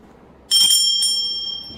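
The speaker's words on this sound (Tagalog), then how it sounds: "They exercised blessed bell." A blessed bell rung once by a priest at a religious gathering, a bright metallic strike with clear sustained ringing tones and a second lighter strike, standing out clearly over a quiet room.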